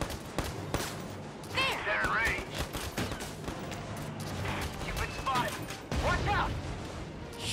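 Gunfire in the war game Valkyria Chronicles 4, bursts of shots and impacts mixed with battle effects and whistling sounds, with voices talking throughout.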